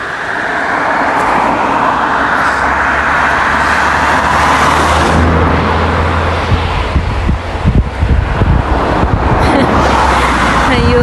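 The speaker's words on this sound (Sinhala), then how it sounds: "වාහනත් එනවා එන්නකෝ." Cars and other traffic passing along a road in Switzerland, with a steady roar of engines and tires close by, buffeting wind noise on the microphone and a louder vehicle rushing past near the end.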